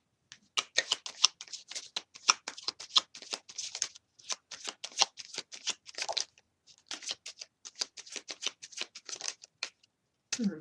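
Tarot cards being shuffled for a reading, rapid close riffles and crisp flicking in short bursts separated by brief pauses, quiet and alone.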